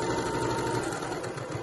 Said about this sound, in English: just make sure when you're stitching that you aren't stitching through your elastic